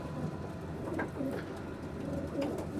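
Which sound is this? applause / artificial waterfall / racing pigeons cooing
racing pigeons cooing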